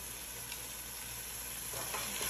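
Spicy mix hitting a hot frying pan with tomato already in it, giving a steady close sizzle throughout that swells a little toward the end as the food is stirred; no talking.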